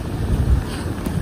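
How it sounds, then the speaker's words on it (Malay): Wind gusting at a rainy-season seaside in Kelantan, with large waves nearby; a steady, rumbling low roar buffets close to the microphone throughout, without speech. "Berangin"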